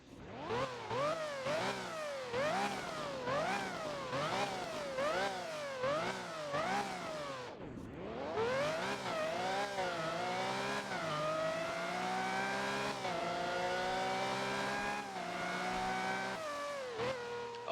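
A Lamborghini Revuelto engine revs sharply about seven or eight times in a row, then climbs into one long, sustained rising howl. It sounds close and loud, with no talking.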